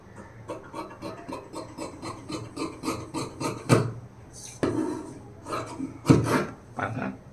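Scissors snip through blouse fabric at a tailoring table, a rapid run of short crisp cutting strokes, then a few louder, slower cuts and rustles nearby.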